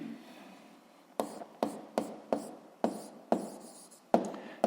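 Pen or pencil writing on paper during a physics homework solution, a series of short scratchy strokes in a steady rhythm, close and fairly quiet, with no voices.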